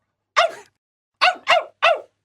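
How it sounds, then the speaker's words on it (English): A dog barks four times close by, one bark followed after a pause by a quick run of three, bright and energetic with no voices around. "looked at his master and barked happily"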